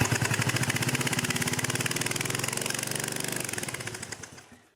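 A Honda CB360 motorcycle engine misfiring and running on one cylinder, with a close, uneven rapid chugging that slows and fades as the engine dies out at the end.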